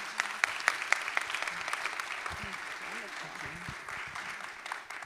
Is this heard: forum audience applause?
yes